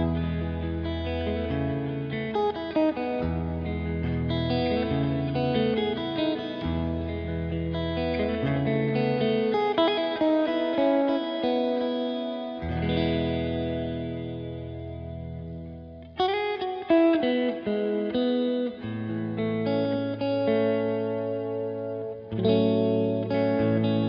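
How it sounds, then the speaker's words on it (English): An electric guitar runs through a T2 reverb pedal on its ethereal reverb-on-reverb setting, with chords swelling into layered, shimmering harmonic tails that sustain between phrases, played alone. "Now on to E1, which is the ethereal one setting, and it's kind of a reverb on a reverb, creating additional harmonies."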